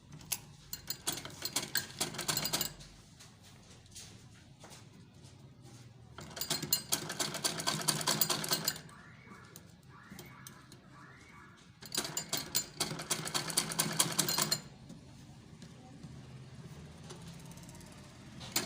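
A sewing machine sewing a zip onto the back of a ladies' kameez runs in three long, loud, steady bursts of rapid mechanical chatter. Quieter pauses separate the bursts, and soft handling sounds fill the gaps.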